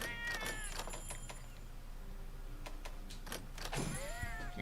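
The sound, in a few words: cat meowing in a video game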